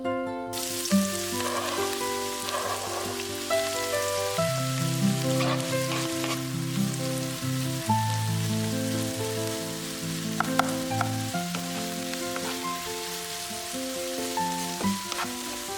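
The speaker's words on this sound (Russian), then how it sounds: "Натираем на средней терке и обжариваем до полуготовности на растительном масле" Grated carrots sizzle and fry steadily in hot vegetable oil in a pan, a continuous close crackle that sits under a loud background of sustained music with no voices.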